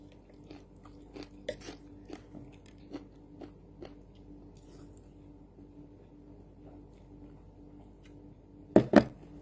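Close, quiet crunching bites and chewing of crunchy vegetables, a series of sharp crisp snaps spaced unevenly over several seconds, ending with a louder double crunch near the end.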